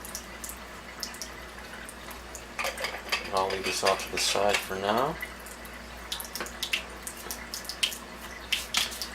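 A tap runs steadily while a cleaning cartridge for a machine is rinsed, a continuous hiss broken by clinks and clatter of handled parts, with a person talking over it.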